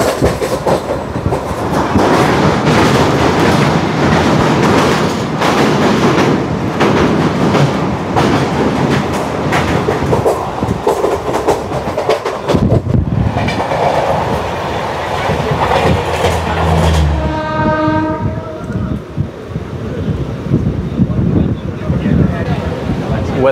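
A Vasai Diva MEMU local train rumbles loudly along the tracks with rhythmic clattering wheels, then a long horn blast with stacked tones near the end as the noise eases; a voice speaks over the din.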